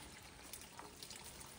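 Spring water running steadily from a hose laid down a ravine in the Philippine countryside, a faint continuous trickling wash with no voices.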